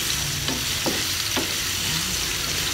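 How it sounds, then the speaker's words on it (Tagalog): Garlic, onion and a small amount of meat sauté in a pan, a loud continuous close sizzle with a few quick stirring scrapes cutting through it, and no talking. "Gisahin natin"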